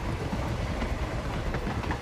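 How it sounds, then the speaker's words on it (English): A train rolls along steadily in the video game Hitman 3, a dense low rumble with faint clickety-clack, continuous and fairly close throughout. "Choo choo. What is that train that we go to Hogwarts in?"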